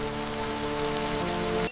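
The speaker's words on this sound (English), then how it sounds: "heavy monsoon rains that wash the canopy" Heavy monsoon rain pours onto a forest canopy in a steady, dense wash of hiss and patter that stays loud and continuous, with a low hum running underneath and no voices.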